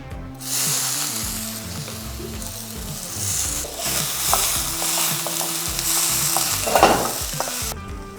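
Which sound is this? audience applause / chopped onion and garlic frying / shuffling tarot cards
chopped onion and garlic frying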